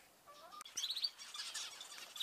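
Faint chirps and tweets from small birds in an allotment aviary, a few quick calls overlapping at a modest distance with no voices.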